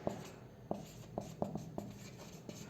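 Chalk or marker taps and strokes on a board during a chemistry lesson on quantum numbers, about seven short close knocks in an uneven rhythm, quiet, with no voice.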